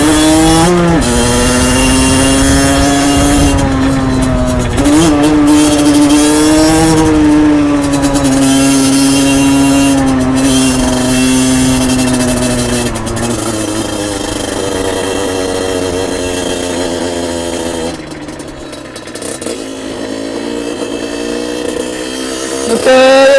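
A motorcycle ride recorded up close: a loud engine whose pitch rises and falls as the rider revs and shifts, with wind rush and a brief drop in level near the end.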